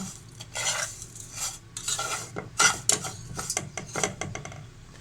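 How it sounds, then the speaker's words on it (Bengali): Vermicelli frying in butter is stirred briskly in a pan, giving repeated scraping of a utensil against metal and a light sizzle in irregular bursts, close up and with no voices. "এখন সেমাইটাকে বাটারের সাথে ভালোভাবে মিশিয়ে ভেজে নেব"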